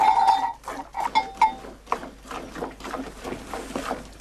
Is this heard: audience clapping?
no